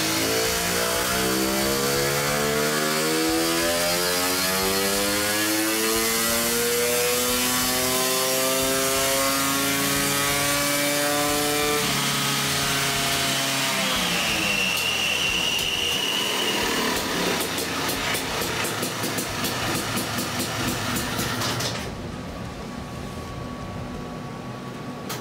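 A stock Honda CR500 two-stroke engine fitted with a high-rev CPI pipe screams on a dyno, its rev climbing steadily in pitch for about twenty seconds before cutting off abruptly, loud and close throughout.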